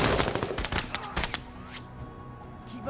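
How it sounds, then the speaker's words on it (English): Gunfire in the tactical video game Menace: several loud sharp shots and short bursts in the first second or two, then a quieter tail of scattered reports and background game sound. "Now these guys are gonna get counter fire"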